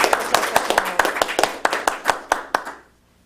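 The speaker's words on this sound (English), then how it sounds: "So round of applause for first contest." An audience at a Toastmasters speech contest applauds with sharp, distinct hand claps that come in a steady, fairly loud patter for about three seconds before fading out.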